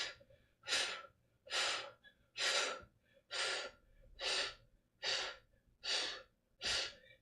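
Steady Pilates breathing during a core and glute workout: eight strong, breathy exhales spaced about a second apart in an even rhythm, close and clear, with quiet gaps for each inhale.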